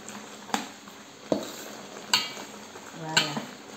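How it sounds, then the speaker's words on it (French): Veal tongue and feet being stirred with stock in a pot, a soft simmering bubble broken by four sharp scrapes and knocks of the spoon against the pot, with no voice. "Mélangez tout."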